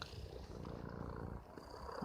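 A cat purring steadily up close, a continuous low rumbling throb with no voices over it.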